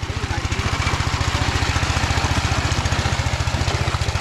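A hand tractor's small engine runs steadily at close range, chugging in a fast, even pulse throughout with a continuous mechanical drone.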